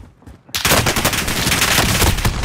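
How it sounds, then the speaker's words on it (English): Sudden loud burst of automatic gunfire in Call of Duty: Modern Warfare, starting after a half-second lull and continuing as rapid, close, sustained fire to the end. "Taking fire!"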